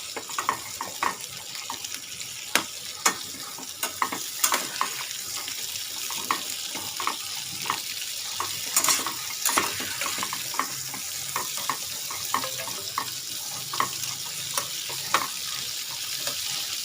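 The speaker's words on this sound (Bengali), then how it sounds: "এই বাটারের মধ্যে আমি যে ক্যাপসিকাম আর পেঁয়াজটা কেটে রেখেছিলাম সেটা আমি দিয়ে দেব" Capsicum and onion fry in butter while being stirred, giving a steady soft sizzling hiss broken by sharp utensil taps and clicks against the pan.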